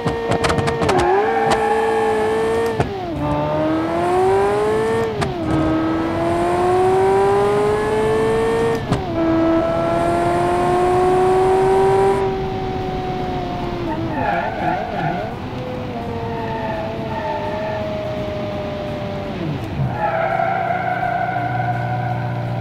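Mgobble's GTO in the racing sim Automation roars through a quarter-mile run, engine pitch climbing in repeated gear sweeps with brief drops between shifts, loud and steady throughout.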